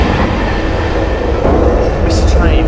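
A train at King's Cross St Pancras station in London gives a steady, loud rumble of rolling stock throughout, with a brief high squeal near the end and people talking over it.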